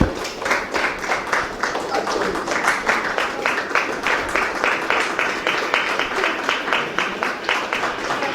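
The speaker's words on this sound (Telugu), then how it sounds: "క్లాప్స్ కొట్టండి అమ్మా" An audience at the release function for the first episode of a TV show claps in a loud, steady rhythm of quick, evenly spaced claps that continues throughout.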